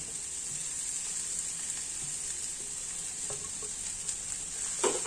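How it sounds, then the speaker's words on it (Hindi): Grated boiled potatoes dropped into a pan of frying spices for a bathua aloo kachori filling, with a steady close sizzle and occasional stirring scrapes, no voices. "अब इसमें हम उबले हुए आलू डालेंगे।"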